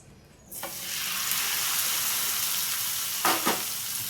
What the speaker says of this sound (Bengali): আর এক পিঠটা ভেজে নেবো।